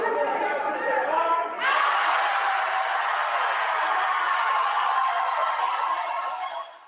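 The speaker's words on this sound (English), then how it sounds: "That is the sound of an auditorium full of Tiffany Henyard opponents rejecting her nomination" An auditorium full of opponents of Tiffany Henyard shouts down her nomination for Thornton Township Supervisor, a loud, sustained roar of crowd voices and jeering that swells after a moment and holds steady before cutting off.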